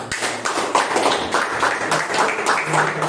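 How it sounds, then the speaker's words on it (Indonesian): A class applauds a group presentation, a brief burst of scattered, uneven hand claps from a small group indoors, moderately loud and close. "kita beri tepuk tangan dulu"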